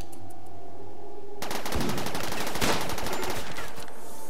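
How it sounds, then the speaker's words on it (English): Rapid rifle gunfire in the video game RimWorld, a dense burst of quick cracking shots that starts abruptly after a quiet moment and keeps rattling on, loud and close with no talking. "rifle can actually shoot that guy"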